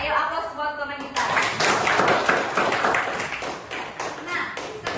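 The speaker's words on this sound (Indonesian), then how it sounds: "Ayo aplaus buat teman kita." Classmates in a classroom break into applause, a dense burst of hand clapping that starts sharply after a brief spoken line and carries on steadily, loud and close, for several seconds.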